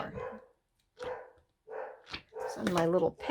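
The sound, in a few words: dogs barking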